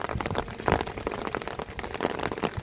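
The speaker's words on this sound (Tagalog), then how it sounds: "Yan, lakas ng ulan." Heavy rain pours steadily onto a surface, a dense continuous hiss with irregular louder spatters throughout, close and fairly loud with no talking.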